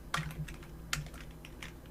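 Several scattered keystrokes on a computer keyboard, a few sharper taps standing out among lighter clicks, fairly close with a low background hum.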